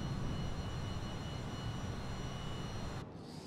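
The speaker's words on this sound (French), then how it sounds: "là ils entendent mes réacteurs d'avion" Private jet engines in Flight Simulator, a steady, fairly quiet broadband roar holding level for about three seconds before dropping off slightly at the end, with no voices.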